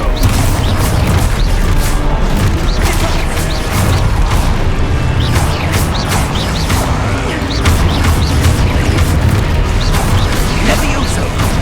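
Loud, dense spell blasts and booming impacts from the Expulso explosion spell in Hogwarts Legacy, a continuous barrage of crashes and thuds with voices shouting through the fight.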